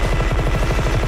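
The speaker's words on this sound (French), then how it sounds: "un fucking canon minigun M134" Rapid rotary fire from an M134 minigun as a film sound effect, a dense continuous burst of evenly spaced shots with no pauses, loud and close throughout.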